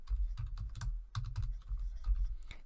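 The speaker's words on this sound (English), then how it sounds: "I'm going to start by just typing in a word so that you can see what it looks like." Quick bursts of keystrokes on a computer keyboard type out a single word, close and clear, with brief pauses between clusters of clicks.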